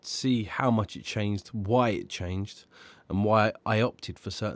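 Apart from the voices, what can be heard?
No everyday noise stands out behind the speech.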